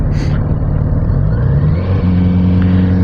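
Kawasaki Z900 RS Cafe motorcycle ridden on a road with gravel, heard close and loud: a deep, steady engine drone that briefly drops and steps up in pitch as it accelerates.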